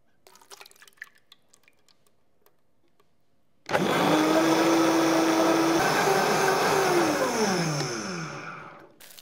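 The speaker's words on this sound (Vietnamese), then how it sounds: "Ớt chuông chỉ cần bỏ cuống và hạt, đem xay nhuyễn với ít sốt cà chua." A blender purées seeded bell pepper with homemade tomato sauce, starting abruptly after quiet kitchen clinks and running as a loud, steady motor whir whose pitch shifts and drops before stopping.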